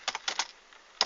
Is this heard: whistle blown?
no